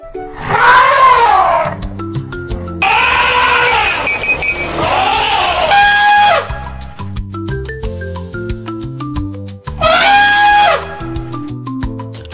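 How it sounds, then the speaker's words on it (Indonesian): An elephant makes loud, close, drawn-out trumpeting blasts in three or four separate bursts, heard over a plucky musical backing. "Elephant."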